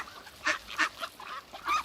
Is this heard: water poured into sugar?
no